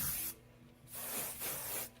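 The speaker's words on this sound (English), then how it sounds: "we set the hairspray" Aerosol hairspray spritzed twice onto skin to set drugstore makeup over a tattoo, two close hissing bursts separated by a brief pause.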